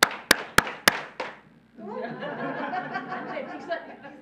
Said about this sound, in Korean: 자, 박수 5번 시작.